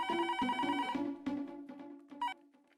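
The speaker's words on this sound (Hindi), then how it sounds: "फोन आया।" A telephone bell rings in a few rapid bursts, clear and fairly close, then fades out.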